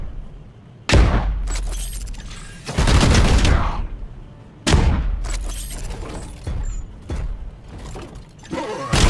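Squad gunfire at a single enemy in Warhammer 40000: Chaos Gate Daemonhunters, heavy bursts of shots and impacts arriving in three loud waves with brief lulls between them, close and dense.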